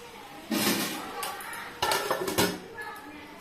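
Eggplant fry being stirred in a pan, with a few distinct scraping clanks of a metal spoon against the pan in short bursts, fairly close, and a voice speaking between them.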